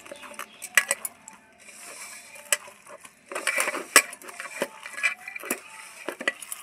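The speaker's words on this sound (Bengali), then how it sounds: "সব ভালো করে আমি এখন মেখে নেব" Turmeric, salt, a pinch of sugar and chilli powder being hand-mixed into ingredients in a bowl, heard as close, irregular clinks and scrapes with soft rustling and no talk.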